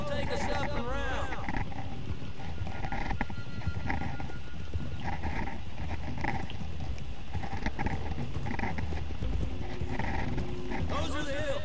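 Horses ridden in Red Dead Redemption 2 give steady clip-clop hoofbeats under a dense game mix of music and talking voices, with a brief whinny possible, running throughout at moderate loudness.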